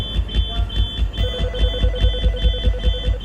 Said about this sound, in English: They were setting off the fire alarm from within.